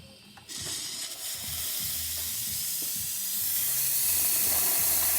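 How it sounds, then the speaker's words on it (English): A serviced, pressure-adjusted La Pavoni espresso machine's steam wand hisses loudly and continuously, with sputtering, gurgling bursts and a broad hiss that builds louder toward the end, heard alone without speech. "And let's cut the steam on for a second."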